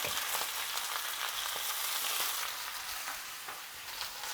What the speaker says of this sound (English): we're going to now put our vegetables in with our garlic